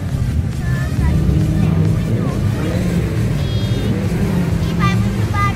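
Drift cars at a drift event in a Japanese parking lot, engines roaring and tires squealing in short bursts over a constant loud rumble, with crowd chatter and voices mixed in.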